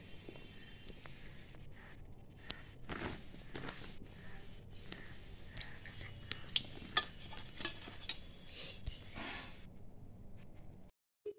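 A large metal cooking pot clanks and scrapes as it is moved about, with sharp knocks and rattles scattered over a quiet room, then sudden silence.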